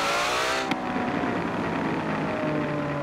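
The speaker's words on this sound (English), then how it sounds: "that really weird crackle noise" A car engine in Forza Horizon 4 drones loudly and steadily, with a rough crackling texture over the revs and a sharp pop near the start.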